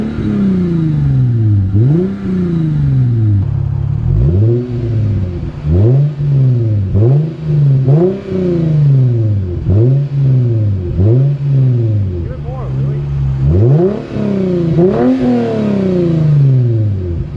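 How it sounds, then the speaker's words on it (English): A Lexus IS250 F Sport sedan's engine is revved repeatedly while parked, loud and close, each blip rising in pitch then falling back, in an uneven series of quick throttle stabs over a steady idle. "right now we're just gonna rev the car so you guys can hear how it sounds"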